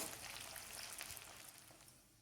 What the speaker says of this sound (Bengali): একটা বড় সাইজের পেঁয়াজ কুচি করে দিয়ে দেব। সোনালি রং হওয়া পর্যন্ত ভেজে নিতে হবে।